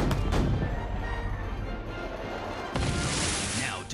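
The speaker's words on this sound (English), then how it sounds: "Prepare all cannons, now! Fire!" Heavy booming cannon blasts from an animated film, a loud rumbling shot at the start and another crash near the end, thick with low rumble.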